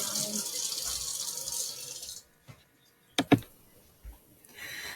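Tap water runs hiss-like while a glass test tube is rinsed, then stops, leaving a quiet lab with a few sharp glassware clinks before the flow returns faintly at the end.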